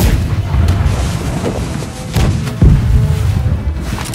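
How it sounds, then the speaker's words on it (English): Side cannons of a sailing warship firing in the Blackwake pirate battle game: a volley of heavy booming blasts at irregular intervals, loud and close, the biggest hit near the end, over a continuous low rumble. "Side cannons hit him."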